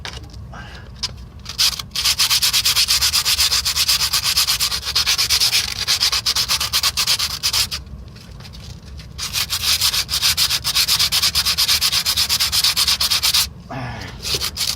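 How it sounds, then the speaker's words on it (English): Sandpaper rubs hard and rhythmically by hand against a metal 2004 Ford F-150 transmission oil pan in long continuous runs, close up, pausing briefly twice before resuming. "we're gonna fucking sand the fuck out of this thing"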